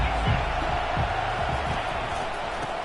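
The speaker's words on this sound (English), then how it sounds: "They challenge this crowd to bring the energy, and I'd say they're doing that." A stadium crowd in the College Football 25 video game roars in a steady, fairly loud wash of cheering for the whole stretch, with no distinct voices on top.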